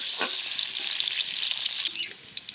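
Onions and dried red chillies frying in hot oil in a pan give a loud, dense, hissing sizzle that holds steady, then eases and thins out toward the end.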